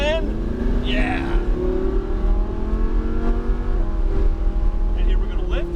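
A Lamborghini Huracan's engine climbs in pitch as power is rolled on in a steady pull, loud and close, with a person talking over it.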